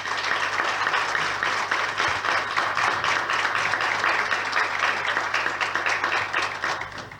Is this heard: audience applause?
yes